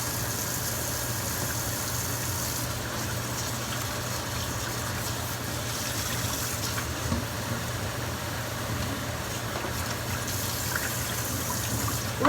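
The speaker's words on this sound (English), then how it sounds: "We're going to rinse. Always rinse our proteins." Raw proteins being rinsed under running water in a catering kitchen: a steady, moderately faint gush of tap water continues throughout with a low hum beneath it.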